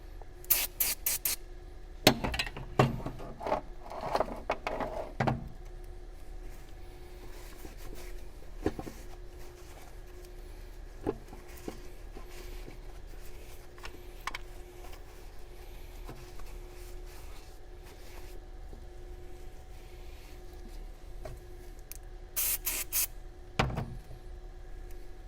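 Brake cleaner sprayed onto the throttle body of a 2013 VW Jetta 2.5L, several short hissing bursts near the start and another near the end, with quiet handling noises between.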